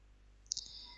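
A single computer mouse click, a faint, brief, sharp tick in an otherwise quiet room.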